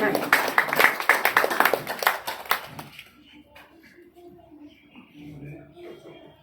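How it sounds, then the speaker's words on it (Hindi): At a monthly branch meeting of a railway pension association, an audience claps loudly and briskly for about three seconds, then the applause stops and a voice begins speaking in a quieter room. "श्री मुनीलाल गुप्ता जी, जोरदार तालियों से"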